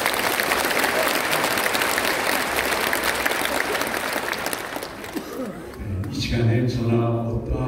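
A church congregation at a Presbyterian thanksgiving service applauds loudly and steadily, the clapping fading out near the end as a voice begins speaking.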